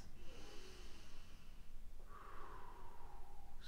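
Slow, deep breathing during a yoga session, soft and close, with long airy inhales and exhales flowing one into the next and no speech.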